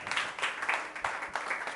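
A church congregation gives a short burst of applause during a sermon. Brief, fairly faint clapping blurs into a continuous patter.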